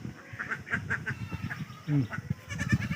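Crossbred goats and a herd of some thirty-five young kids on a farm bleat in short, scattered calls, one clear cry standing out near the middle over a busy, noisy background.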